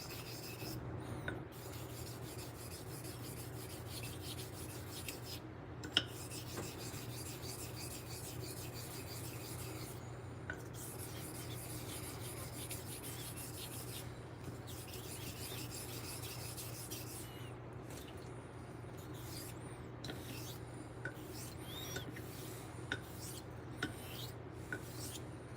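A stainless steel straight razor honed on a Pyrenees sharpening stone gives soft repeated rasping strokes in an even back-and-forth rhythm, close and quiet over a low steady hum, with short gaps between passes.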